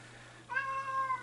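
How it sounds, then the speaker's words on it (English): A house cat lets out a single drawn-out meow, close and clear against a quiet room, lasting under a second with no talk. "in case you're wondering what all that meowing is, it's my cat Tibbles."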